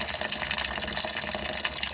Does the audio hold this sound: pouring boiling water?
yes